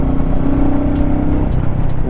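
A car engine idles and runs smoothly throughout, a steady low hum with even tone and no talk over it, heard close during a test ride.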